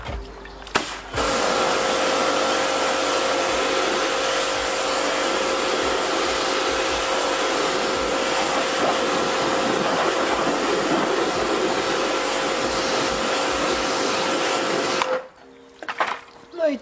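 A steady, loud hiss of water spray rinsing cleaning foam off a car tyre during tyre washing, running continuously for about fifteen seconds before cutting off.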